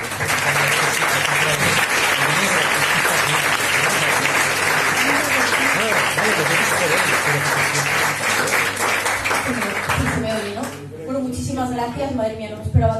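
A large audience applauds loudly and steadily for about ten seconds at a skeptics' pub talk in Valencia, then the clapping fades as a voice begins speaking close by.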